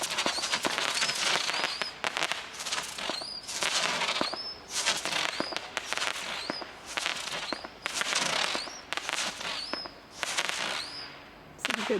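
A 16-shot Mercurial B fireworks cake with Catherine wheel effects fires in a rapid series of loud bursts, each with a rising whistling shriek, crackling on and off for about twelve seconds.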